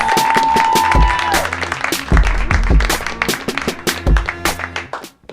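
A comedy club audience applauds and claps loudly for a comedian being introduced, a dense burst of hand claps and crowd noise continuing over several seconds before tapering off, with a sustained tone fading out near the start.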